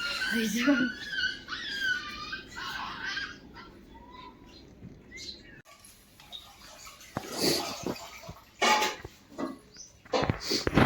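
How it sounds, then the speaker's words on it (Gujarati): A dog whimpers in high, wavering whines near the start, followed by scattered household noises and talk. "કે કૂતરી આવી જા"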